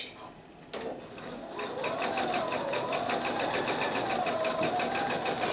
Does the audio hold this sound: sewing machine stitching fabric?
yes